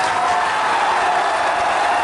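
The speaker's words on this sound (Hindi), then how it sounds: "ये देखो, आपने ताली बजाई" An audience at a political rally claps steadily and densely, a continuous wash of applause with faint crowd noise that holds evenly for the whole stretch.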